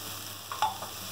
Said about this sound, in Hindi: 5 मिनट भूनने के बाद अब हम इसमें हरी मिर्च डाल देंगे